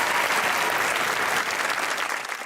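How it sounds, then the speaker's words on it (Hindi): Studio audience on a TV comedy talk show breaks into loud, dense clapping that holds strong, then thins and fades near the end. "लाइबा के लिए एक दफा तालियां यार।"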